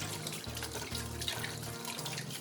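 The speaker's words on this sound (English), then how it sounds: "Turn off the heat and rinse the noodles thoroughly with cold water." A kitchen tap runs cold water over cooked Korean cold noodles, a steady splashing stream close by with a faint low gurgle underneath.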